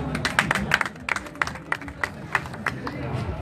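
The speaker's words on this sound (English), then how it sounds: "Clap for him, please." A small audience claps in scattered, uneven bursts at an English language club event, with light murmuring and chatter underneath.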